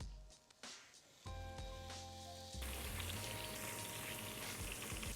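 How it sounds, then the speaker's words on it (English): Pork belly pieces laid into a hot pan sear with a sudden loud hiss, after a couple of soft clatters, settling into a steady, close sizzle. "I'm gonna start searing my pork belly"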